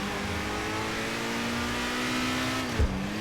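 A Nissan 400Z at full throttle in a drift driving game: a loud, steady engine drone that climbs slightly in pitch, then cuts sharply near the end as a gear change or lift-off, with no talking.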